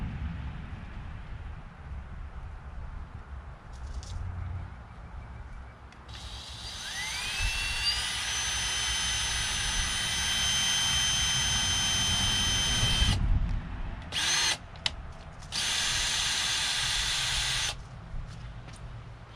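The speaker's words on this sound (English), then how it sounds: "I'm drilling into my Tour-Pak." A power drill bores a hole into a Harley-Davidson Tour-Pak during an Air Wing rack install, rising to a loud steady whine that runs for several seconds, cuts out, then starts again in short bursts.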